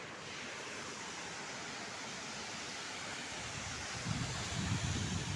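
The Nakiya (Devpahari) waterfall in Korba, Chhattisgarh, rushes as a steady, soft broadband roar that swells slightly toward the end, with no voices over it.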